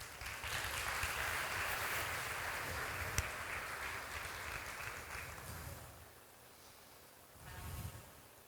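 A church congregation gives a faint round of applause, a soft, far-off wash of clapping that holds for about six seconds before tapering off.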